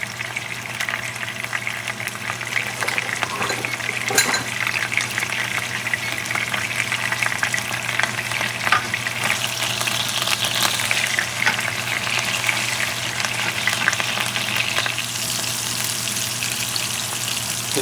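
Ecuadorian flank steak fries over high heat in a pan, a loud, steady, dense sizzle with crackling spatter that holds unbroken from start to finish.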